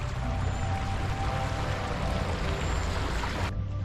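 Rapids on the Grand River rush past a kayak in a continuous close, hissing wash of moving water that cuts off abruptly near the end.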